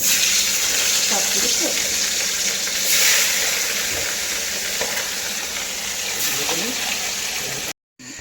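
Home-style fish pieces frying in hot oil until orange for a fish curry, a loud, continuous hissing sizzle with occasional crackles and light stirring.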